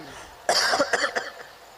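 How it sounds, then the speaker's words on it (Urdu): A man coughs several times in a quick, close burst during a religious sermon, the harsh bursts loud and alone against a quiet background. "آپ کی سماعتوں پر میری کھانسی کی آواز بار پڑے تو اس کو بھی معاف کر دیجیے گا۔"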